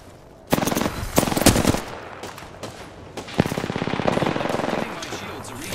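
Gunfire from a Mozambique shotgun in a video game arrives as bursts of loud, rapid reports in two main volleys, close and sharp, with faint voice chat underneath.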